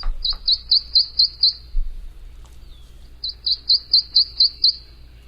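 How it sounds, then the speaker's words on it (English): An unidentified songbird sings two bright, high phrases of rapid, evenly spaced chirps, clear and fairly near, with a short pause between them over a quiet background. "I believe we're hearing our mystery bird."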